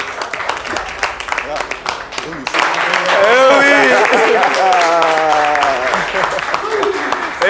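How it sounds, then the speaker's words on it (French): Applause and cheering from a live audience at an Ivorian television show break out over a host's voice, swelling into a sustained loud wash with whoops and shouts. "Applaudissements pour eux."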